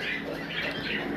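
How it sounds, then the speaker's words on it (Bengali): Desi Giribaj pigeons kept for sale give a continuous close chorus of throaty squawks and calls, overlapping without a clear break. "এখানে দেখতে পাচ্ছেন যেগুলো কবুতর, এগুলা সব দেশি গিরিবাজ আছে"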